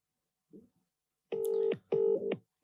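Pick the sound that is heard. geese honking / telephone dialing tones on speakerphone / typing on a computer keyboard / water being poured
telephone dialing tones on speakerphone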